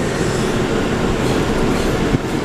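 An R179 subway train runs along the A line, giving a loud, steady rumble of wheels and motors from inside the car with a faint clack near the end.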